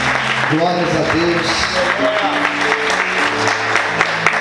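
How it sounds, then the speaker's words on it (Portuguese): A church congregation applauds during an evening service, the clapping running steadily throughout while a voice speaks and calls out over it. "Você pode aplaudir Jesus nessa noite."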